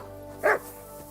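A single short dog bark in Kingdom Come: Deliverance II, one clear yelp standing out close and loud over quiet game ambience.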